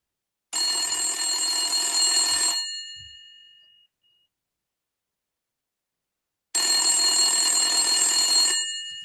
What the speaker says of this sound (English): Then you receive another phone call after a few hours.